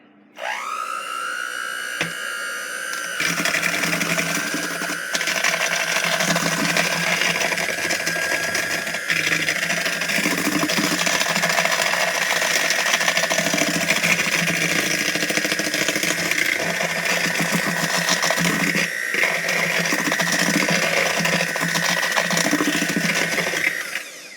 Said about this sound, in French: Je vais prendre mon batteur et je vais mettre à la première vitesse.